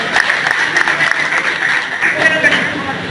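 Applause from an assembled community gathering welcomes a former society president, a dense, steady patter of clapping from many hands with a voice carrying over it.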